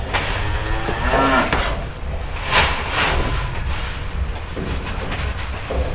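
Male calves and cattle on a livestock farm moo loudly and repeatedly at close range over dense barn noise, with no voices.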